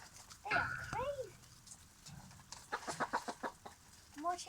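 Backyard chickens cluck and squawk while pecking at mealworms, a burst of calls early on, then a quick run of short clucks and more at the end, fairly close with light background noise.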